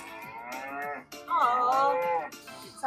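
Cattle on a farm low in two drawn-out, close moos, the second stronger and wavering, separated by a short pause, with no voices.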